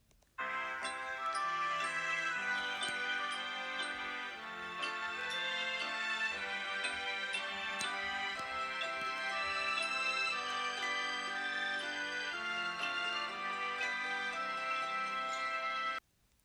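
The In the Night Garden theme plays continuously, bright bell-like notes carrying a simple melody for about fifteen seconds, no one speaking.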